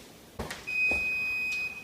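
A kitchen oven timer beeps as pies finish baking at 400 degrees, a single steady tone held for about a second after a couple of soft knocks, loud and close in a quiet kitchen.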